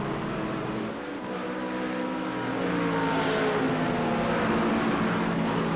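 Porsche and Ford GT3 race cars racing at Road America, engines droning and rising in pitch as they accelerate, growing louder and closer toward the end, a steady continuous roar.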